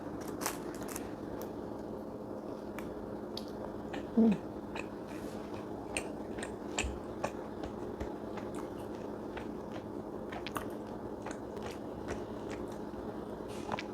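Close, quiet chewing and biting sounds of chicken breast satay with lontong, with soft crunches and clicks of food being eaten over a faint room hum.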